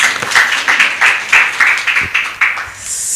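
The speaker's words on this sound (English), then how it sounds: "Another round of applause for him" Applause from a conference audience at a FIDA-Kenya annual conference opening ceremony, a short burst of clapping with uneven pulses that fades over about three seconds.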